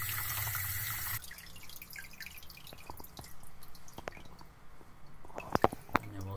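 Water draining from a Worcester boiler system during manifold removal, heard as a steady hiss of flowing water at first, then scattered drips and small splashes, close and fairly quiet.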